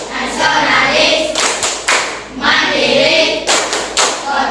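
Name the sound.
children clapping a rhythmic PPK clap chant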